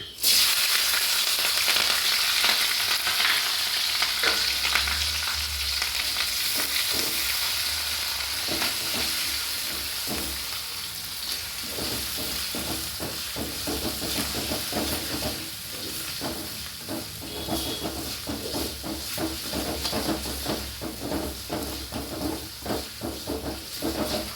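Crushed garlic, green chilli, ginger and curry leaves fry vigorously in hot oil for a carrot pickle, a loud continuous crackling sizzle with occasional stirring scrapes throughout.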